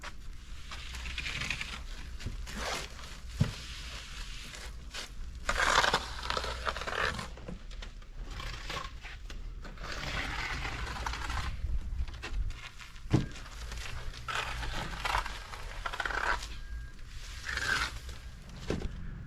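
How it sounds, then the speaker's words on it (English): A derby float scrapes and rasps across fresh stucco on a backyard shed wall, a steady gritty scraping with irregular louder strokes and knocks, continuous and fairly close, with no talking. "he's hitting it with the Derby"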